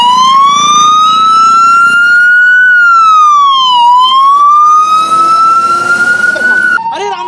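An ambulance siren wails loud and close, its pitch sweeping in long smooth rises and falls that carry throughout, with faint traffic noise beneath.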